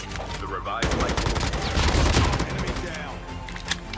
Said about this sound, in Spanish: Y por aquí hay disparos.